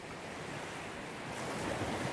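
Ocean waves crash onto a beach in a continuous, full roar of surf with a windy hiss, steady and close, with no voices.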